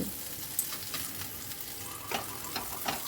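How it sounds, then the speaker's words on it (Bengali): Atta snacks frying in hot oil over a high flame, a steady low sizzle with a few soft clinks as pieces are turned, close and quiet with no talk. "এইভাবে উলটপালট করেই কিন্তু আমার নাস্তাগুলো ভেজে নিতে হবে।"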